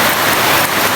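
Steady, loud rain falls with a dense, even hiss that lasts the whole second, and no voices are heard over it.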